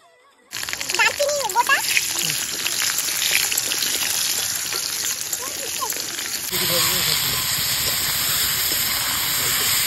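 Tap water running at a picnic: a steady, loud hissing rush that starts abruptly and continues, with a change in tone partway through, while people talk over it.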